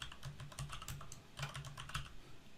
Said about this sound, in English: In the box below it, we want to click on the box below it and type in Dennis Jones,